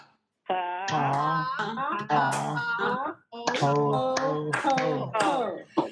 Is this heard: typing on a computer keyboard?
no